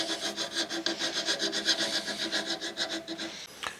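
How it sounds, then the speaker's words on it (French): A small round hand file rasps back and forth over the rough edges of a textured pot, making steady rhythmic strokes about six times a second, close and clear with no voices, before a brief scrape at the end. "vous prenez une lime, tout simplement, petite lime ronde, et ça va arrondir tous les aspérités"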